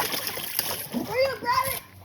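Water splashes and spatters close by during a backyard water gun fight, in short bursts mixed with excited children's voices.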